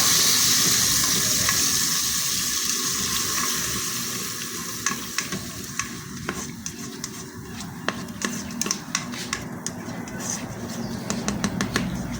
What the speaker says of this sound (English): Then we are going to add in our blended mixtures of tomato, onion and garlic. And fry.